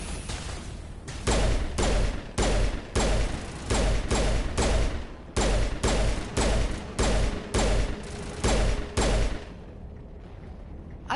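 Gunfire in Mass Effect comes as a steady series of about fifteen loud, heavy bursts, evenly spaced roughly half a second apart with brief gaps between, close and booming, before the shooting stops and quieter ambience remains.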